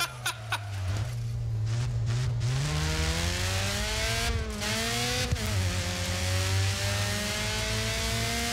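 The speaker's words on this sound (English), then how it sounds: "the engine sounds like someone just takes a soda can and is blowing really hard into it" A race car engine in the video game Grid Autosport revs and drones continuously, pitch rising and falling as it accelerates, with a few brief bumps and clicks.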